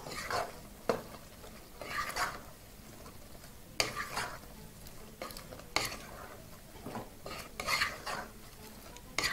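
Food being stirred in a pot with a utensil, giving repeated scraping and clinking strokes in an irregular rhythm, close and moderately loud, with no talking.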